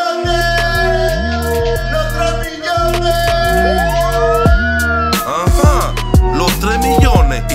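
A police patrol car siren wails loud and close with rising and falling tones, layered over heavy, pounding bass music, with sharp sweeping effects toward the end.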